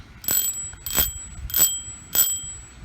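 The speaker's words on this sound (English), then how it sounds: "Oh, I bet you want to hear the bell." A bicycle bell rings four times in an even rhythm, each ring a bright, close, loud ding with a short fade, heard alone outdoors before a park bike ride.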